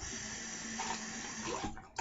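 Water runs and splashes steadily onto shaving soap lather with vintage Williams shave soap, a continuous faint wet trickle that ends in a short slosh.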